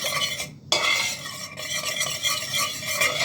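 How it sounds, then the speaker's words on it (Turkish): A spoon stirs sauce for tomato-paste noodles in a pot, a steady scraping, swishing texture with a couple of brief pauses, close and fairly loud with no talking. "Güzelce sosları bir karıştırıyorum."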